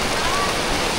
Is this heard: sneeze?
no